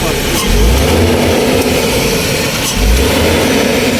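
A Toyota Hiace Super GL van engine runs steadily at close range, a continuous mid-pitched drone with two brief low swells as if lightly revved, carrying on alone without talk.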